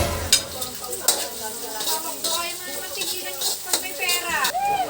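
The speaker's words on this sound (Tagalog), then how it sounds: "So, igigisa ko lang siya ng konti." Onion and carrots are sautéed in a pan, giving a steady sizzle broken by repeated scraping stirs and light clinks of a utensil against the metal, close and clear.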